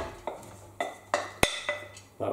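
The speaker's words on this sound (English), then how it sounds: "The first ingredient to go into our pot is going to be our chopped onions." Chopped onions tipped into a heavy-duty pot over medium-high heat, heard as a series of sharp metallic clinks and scrapes of spoon against pot, one louder clang midway, with a faint hum beneath.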